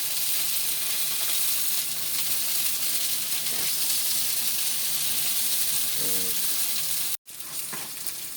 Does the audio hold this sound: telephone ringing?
no